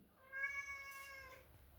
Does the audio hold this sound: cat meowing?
yes